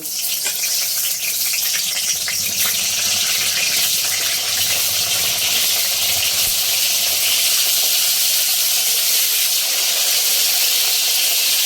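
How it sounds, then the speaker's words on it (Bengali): Pointed gourd pieces coated in salt and turmeric frying in hot mustard oil, a loud continuous hiss and crackle, close up and unbroken, with no voices. "লবণ আর হলুদ মেখে রাখা পটলটা ভেজে নেব"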